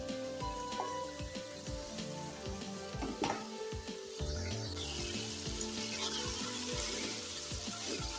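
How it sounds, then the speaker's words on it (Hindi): Chickpeas roast in a spice mix in a pan, giving a steady close sizzle and frying crackle with occasional stirring scrapes throughout, no voices. "अब ये चने हम अच्छी तरह से भून लेंगे इसमें।"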